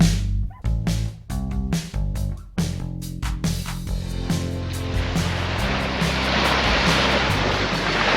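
Surf rolling in at St. Pete Beach, Florida, with a steady rushing wash building into a broad roar, broken early by repeated sharp thumps and what sounds like a dog barking nearby.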